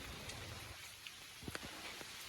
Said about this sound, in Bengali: এখনো গুড়ি গুড়ি বৃষ্টি হচ্ছে, মনে হচ্ছে আবার মুষলধারে বৃষ্টি আসবে।